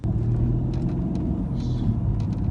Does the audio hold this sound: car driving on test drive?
yes